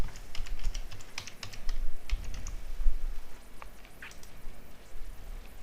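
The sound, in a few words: typing a password on a computer keyboard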